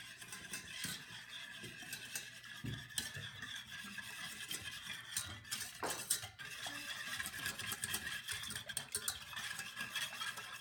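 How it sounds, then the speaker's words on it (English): Whisk beating a batter smooth in a bowl, a steady rapid scraping and clinking of metal against the bowl that runs nearly without pause, close and moderately loud. "Then make it all nice and smooth, whisk it."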